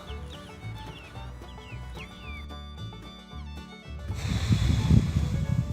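Chicks in a coop pen cheep in quick high chirps and peeps, many overlapping calls close by, with some rustling and louder scratchy movement building near the end.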